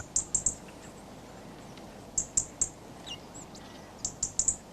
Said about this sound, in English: Robins have a scolding call.